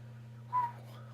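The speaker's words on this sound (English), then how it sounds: "Well, I should not whistle." A short whistle from a race commentator during a Daytona 500 sim-racing broadcast, a single brief rising tone over a steady low electrical hum.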